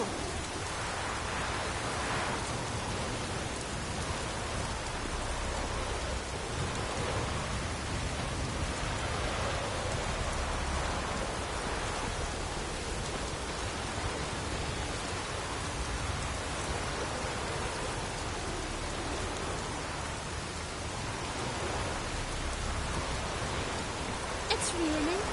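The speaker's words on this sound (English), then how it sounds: "It's raining." Rain pours in The Witcher 3 game world on PS4, an even, unbroken wash of noise holding at the same level from start to finish, with no talk over it.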